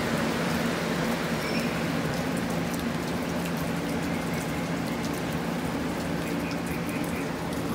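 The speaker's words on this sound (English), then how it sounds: "Can you see that rain's getting a little harder" Rain falls steadily and grows heavier, a dense even patter and hiss on surfaces outdoors, continuous and fairly loud with no voices.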